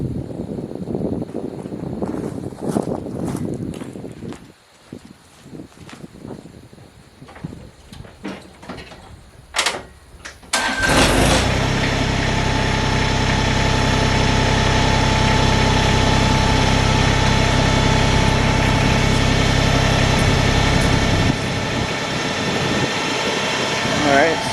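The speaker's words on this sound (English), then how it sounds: "let's go fire up the tractor" A compact tractor engine cranks and fires after some handling noises, then settles into a steady, loud, close idle that runs on without a break.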